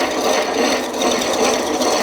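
A Stanley 77 dowel maker cranked through Filipino mahogany gives a continuous dry rasping and scraping of the cutter shaving wood, close and steady, with a faint rhythmic pulse from the turning.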